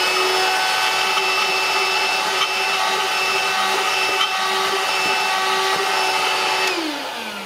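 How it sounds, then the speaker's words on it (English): A DeWalt portable vacuum rigged as a bee vacuum runs with a steady, high-pitched motor whine and airy rush, then begins winding down as it shuts off near the end. "It's designed to be used with this DeWalt vacuum, portable vacuum"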